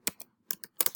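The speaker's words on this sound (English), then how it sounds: "we will type in" A few quick taps on a computer keyboard, close and crisp, coming in small clusters of two or three clicks with short silent gaps between them.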